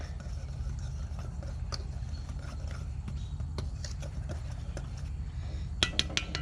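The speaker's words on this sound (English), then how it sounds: "Give this a little whisk around." A whisk ticks lightly against a bowl of dry ingredients with nutmeg for apple fritters, a loose run of small clinks over a steady low hum, ending in a few sharper taps.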